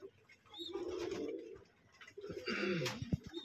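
Pigeons in a pigeon loft give soft, low rolling coos in two close bursts, with faint higher chirps and light rustling between them.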